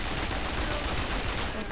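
Dense gunfire during a fight against enemies in the video game Mercenaries 2, a continuous rapid barrage of shots with no pause, loud and close throughout.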